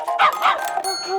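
A mother dog with her puppies at a sterilisation clinic gives close, loud yips and whimpering barks in quick succession, with soft high squeaks between them.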